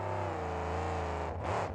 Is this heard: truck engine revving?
yes